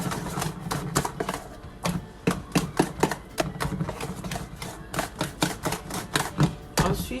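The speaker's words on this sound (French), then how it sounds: "Je prends mon fouet pour bien mélanger" A whisk clatters rapidly against a bowl while banana fritter batter is mixed, with mashed bananas already in it, giving a close, steady series of sharp rhythmic clicks and taps with no talking.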